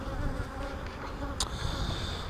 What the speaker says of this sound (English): let's get some of these bees off of here first